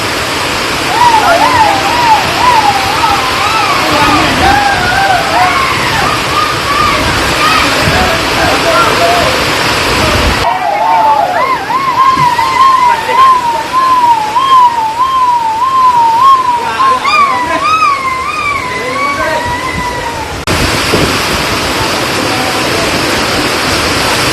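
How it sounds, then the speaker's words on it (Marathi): Heavy rain and rushing floodwater from the Amba River in Raigad, over a submerged bridge, roar loudly and without a break, while a person talks excitedly over the noise. "पाऊस तुफान पाऊस"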